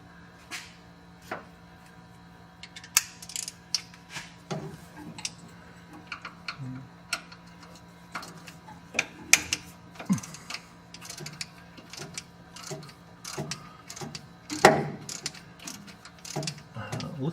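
Work on a stuck bolt on a 1965 Ford Cabover brings rapid metallic clicks and ratcheting taps, irregular and close, with occasional louder knocks and a low steady hum beneath.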